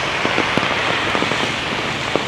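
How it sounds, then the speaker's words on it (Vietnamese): Steady heavy rain pouring down, a dense continuous hiss with scattered louder drops pattering on a surface nearby. "mưa kéo dài suốt từ sáng sớm cho đến tận bây giờ là hơn 3 giờ chiều"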